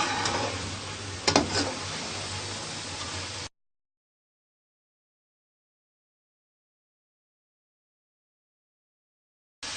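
Carrot halwa with dry fruits frying in oil in a pan: a steady broadband sizzle with one brief stirring clatter, lasting about three seconds before cutting to silence, then returning briefly at the very end.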